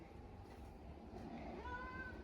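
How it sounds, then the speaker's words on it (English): A pet cat meows outdoors among potted native plant seedlings in a garden, with a faint, distant meow or two rising over quiet background ambience. "you might hear my kitty Daisy."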